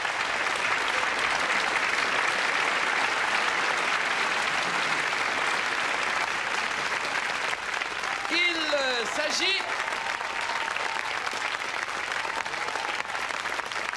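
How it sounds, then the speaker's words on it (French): A TV game show studio audience claps loudly and steadily, a sustained round of applause lasting about fourteen seconds, with a brief whistle or squeak partway through and voices mingling under the clapping. "on vous applaudit très fort."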